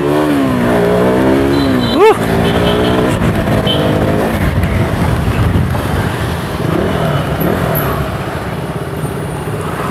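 A KTM motorcycle being ridden, its engine revving and shifting pitch with a sharp rise near the start, then droning on under a rider's speech.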